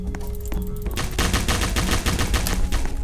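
Pistol gunfire in a Roblox battleground video game: a rapid run of loud shots, scattered at first and then packed into a dense fusillade that fills the second half, with no talking.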